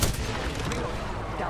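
Gunfire from a battle royale video game, a dense, steady burst of shots and booming blasts filling the short moment at close range, with a faint trace of voice underneath.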